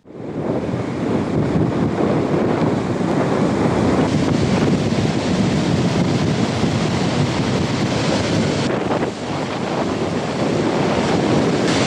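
Strong wind and heavy waves at sea off the Sri Lankan coast in bad weather make a loud, continuous roar, with gusts buffeting the microphone throughout and no voices.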